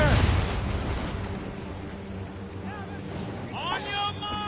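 Ship cannon volley booming loudly in an Assassin's Creed Rogue naval battle, a heavy blast at the start rolling into a long rumbling decay, with shouted voices breaking in near the end.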